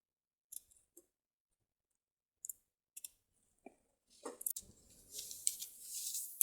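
Scissors cut fabric along a drafted sewing pattern, starting with a few sparse, close snips and clicks, then moving into a steady run of crisp cutting and rustling cloth.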